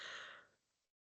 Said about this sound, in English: I'm so sorry, I'm yawning.